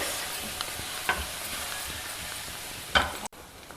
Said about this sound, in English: Top it up with some fresh grated coconut, about 1 or 2 tablespoons you can add. Give it all a good mix.